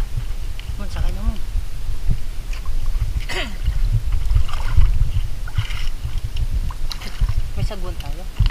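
A paddled boat moving across Gunao Lake at night, with rhythmic paddle strokes, water sloshing and knocks against the hull, close by while people talk throughout.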